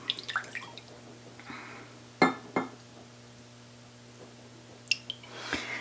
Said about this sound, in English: we're going to use a 1/2 cup of Worcestershire sauce, and I've just got my measuring cup here, and I'm just going to pour in a 1/2 cup